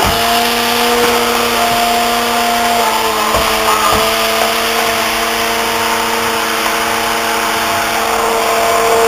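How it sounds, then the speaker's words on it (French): An immersion blender purees cooked potatoes and squash in a pot, a steady loud motor whir running without pause, with a few brief knocks as the blade head bumps the bottom. "on va prendre un mixeur. une petite girafe. Et on va mixer."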